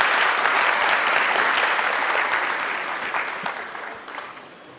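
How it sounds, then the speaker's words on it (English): Sustained, dense applause from an audience at a university orientation program for new first-year undergraduates. It stays loud and continuous, then thins slightly toward the end. "Dr. Punia, a big round of applause for Dr. Punia, please."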